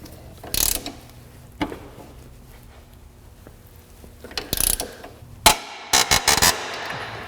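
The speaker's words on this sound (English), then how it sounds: "I'm going to start with wrenches on these, this through bolt." A ratchet wrench works on a 22 mm through bolt on a 2003 Nissan Sentra, giving a few sharp clicking bursts and metallic clatter close by against a quiet background, with no talking.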